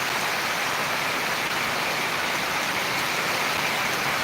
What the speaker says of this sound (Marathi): खूप जबरदस्त सुरुवात होती पावसाची